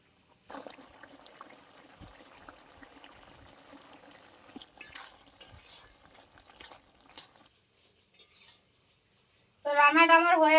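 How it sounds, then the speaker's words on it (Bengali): Pre-fried prawns go into a simmering Malabar spinach curry, making a soft bubbling and sizzling with stirring scrapes and wet stirring sounds, followed by a brief loud tonal burst at the end. "এবার আমি দিয়ে দিচ্ছি আগে থেকে ভেজে রাখা চিংড়ি মাছটা"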